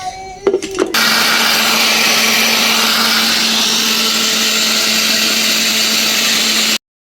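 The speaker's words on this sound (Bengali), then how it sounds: "ব্লেন্ডার করবো এখন সরো আমি করি" A kitchen blender grinds soaked rice into batter for pitha with a loud, steady whirring drone that runs for several seconds after a few brief clicks and then stops abruptly.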